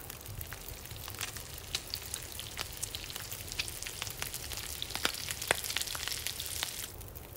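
Food sizzling over a fire while cooking in The Long Dark survival game, a soft continuous crackle with scattered sharp pops throughout, fairly quiet, with no talk.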